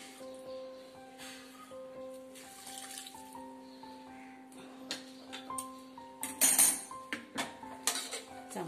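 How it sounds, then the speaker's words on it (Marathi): Water is splashed around a kadhai in a home kitchen to rinse off stuck masala. Scraping and metal clinks build into louder clattering near the end, over soft, steady background music. "आता हीच कढई जरा धुवून घेते।"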